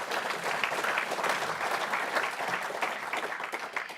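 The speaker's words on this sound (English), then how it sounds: "Can we have a round of applause, please, to Datamars for being involved?" A deer industry conference audience claps steadily throughout, a dense and even wash of many hands at moderate loudness with no break or build.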